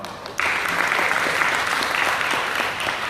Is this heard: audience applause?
yes